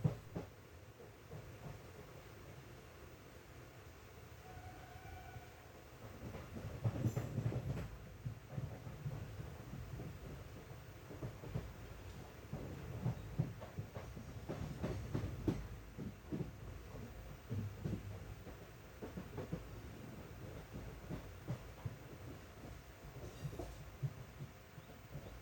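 Express passenger train running through Mangalore Junction on platform 2 without stopping in monsoon weather: a steady low rumble and rhythmic wheel throbbing heard from onboard, with faint clicks over the rails.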